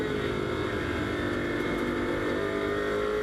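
Onboard engine of a GT race car lapping the Barcelona circuit. The roar is loud and sustained at high revs, with a steady, dense tone throughout.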